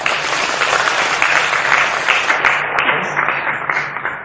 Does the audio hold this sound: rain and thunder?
no